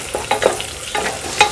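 Onion and bay leaf fry in a pan, with a steady sizzle broken by quick scraping strokes of a spoon stirring, close and alone.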